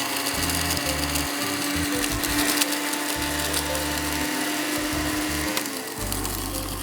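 An electric grinder whirs loudly as it grinds ingredients for a vegetarian korma, running in short bursts with brief pauses and a steady motor hum between pulses.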